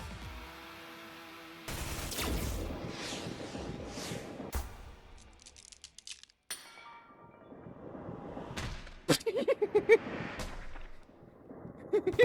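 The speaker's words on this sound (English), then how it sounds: "I can't believe this guy pulled out a freaking minigun" Rapid minigun fire from a video game, AI: The Somnium Files, loud bursts and crackling volleys that come and go across the stretch, with a game soundtrack underneath and some brief pauses between the bursts.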